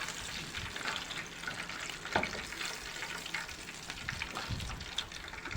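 Pieces of crispy Kentucky-style breaded chicken fry in hot oil, giving a steady, dense sizzle with crackling pops throughout and no talking.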